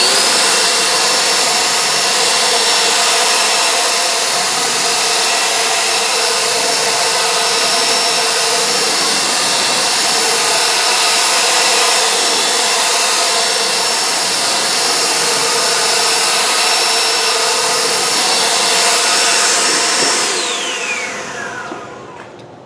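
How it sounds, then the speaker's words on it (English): A leaf blower drives a loud, steady high-pitched whine across a freshly washed car, blasting water off a hydrophobic panel; the roar holds unbroken for about twenty seconds before spinning down and fading at the end. "I'll take my leaf blower and dry off my car."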